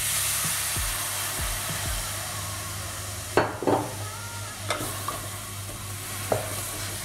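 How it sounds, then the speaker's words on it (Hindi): Spice paste of coriander and red chili powder being stirred with water in a pan for mutton curry, a soft steady sizzle broken by several sharp scrapes and knocks of a utensil against the pan. "अच्छे से मिक्स करके थोड़ा सा वाटर ऐड कर देंगे।"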